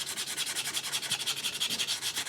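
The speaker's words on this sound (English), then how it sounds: "I just kind of wanted to get them a little bit here with the sanding block as much as I could." A sanding block is rubbed back and forth by hand over carved wood flutes, making about twenty quick, even, scratchy strokes in a steady rhythm, close and alone.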